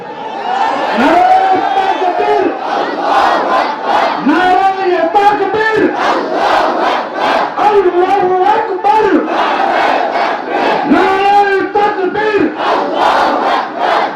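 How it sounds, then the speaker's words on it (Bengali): A crowd of young men at an outdoor Islamic sermon gathering shouts takbir in loud, repeated chanted waves, many voices together in rhythm, close and powerful for the whole stretch. "যুবক ভাইরা, তোমরা তাকবীর দাও, এবার আমরা শুনবো।"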